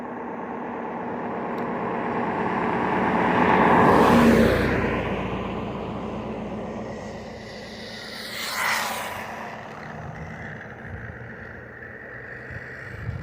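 1/18 scale HBX 18859A RC car on 2S driving fast, a buzzing motor whine that swells as it approaches, fades, then rises in a second quicker pass before trailing off.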